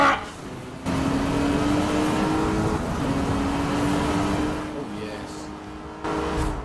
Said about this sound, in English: Listen to that V12 for crying out loud